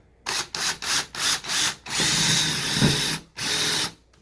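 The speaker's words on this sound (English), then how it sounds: "we're going to drill a pilot hole with a smaller bit first" A power drill revs in several short bursts, then runs longer, grinding steadily as it drills a small pilot hole through a steel exterior door, stopping briefly before one last run; close and fairly loud.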